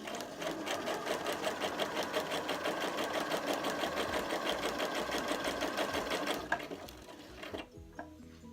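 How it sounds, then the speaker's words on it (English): A sewing machine runs a medium straight stitch, its steady rapid needle clatter holding even for about six seconds before slowing and stopping, followed by a few faint mechanical clicks. "choose medium straight stitch and press down foot control and start stitching."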